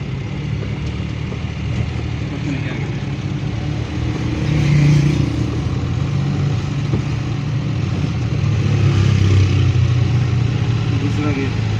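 A car engine drones steadily at low revs while a learner driver slowly lets out the clutch, the hum swelling slightly twice, with an instructor's voice heard over it.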